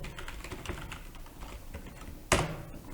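A MySQL query being typed on a computer keyboard: a quick, irregular run of close key clicks with one louder, sharper keystroke near the end.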